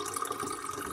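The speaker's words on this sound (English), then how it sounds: "Pour her some wine." Wine pours into a glass as a brief, steady liquid trickle with a faint splashing fill. It runs for about a second and has no voices over it.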